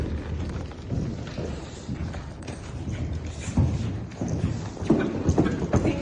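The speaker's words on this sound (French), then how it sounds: "Il y a un cavalier et son cheval qui fait le tour du ring." A horse with rider circles a riding ring at a gymkhana, its hooves thudding in a loose, uneven rhythm on soft ground, moderately near amid low background noise.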